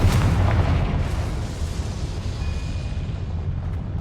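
A Confringo spell explosion in the video game Hogwarts Legacy booms loudly at the start and rumbles on, fading slowly into a long low roar over several seconds.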